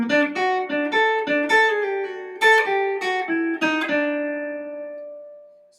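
Electric guitar plays a western swing lick, a quick run of clean, ringing plucked notes climbing and settling before a final sustained note fades out.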